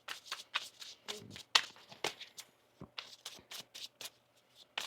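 Tarot cards shuffled in repeated quick riffling bursts, close and fairly quiet, with brief pauses between flurries and soft handling noises.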